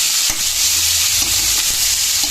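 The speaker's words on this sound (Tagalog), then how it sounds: "Lalagay na po ni mama yung ating karne. Ay, baboy." Pork sizzling and frying steadily in a pan for Bicol express with sitaw, a loud continuous crackle with occasional stirring scrapes and no talk.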